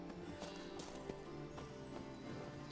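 Horse hooves clip-clopping in The Witcher 3, a rhythmic series of trotting hoofbeats under layered game music and ambience, moderately close and steady across the span.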